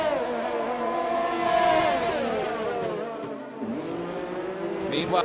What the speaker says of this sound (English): He should get passed up by Whistler here coming into the chicane.